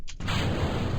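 A Kerbal Space Program rocket engine ignites at launch with a brief whoosh, then settles into a loud, dense, steady roar that fills the space without a break.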